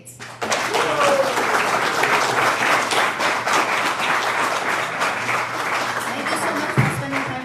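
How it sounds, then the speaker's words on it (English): An audience at a mayoral candidates' forum in Buffalo breaks into sustained applause, dense loud clapping from a crowd that starts abruptly and carries on steadily throughout. "Round of applause for all candidates."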